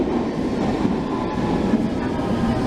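A London Underground Metropolitan Line train rumbling into Euston Square station, a loud, steady low roar of wheels and motors in the enclosed platform, without talk.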